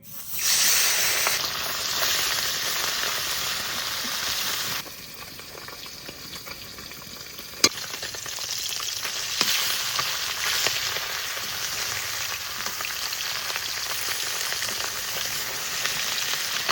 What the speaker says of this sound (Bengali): মাছ ভাজার জন্য সর্ষের তেল দিয়ে দেবো।